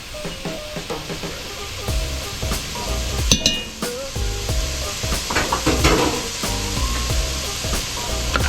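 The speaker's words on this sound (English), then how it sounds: "I'm gonna add a little bit of minced ginger." Minced ginger hits a hot pan beside pumpkin, fish and rice, giving a steady loud sizzle with spatula stirring and occasional clinks of utensil on the pan, no voices.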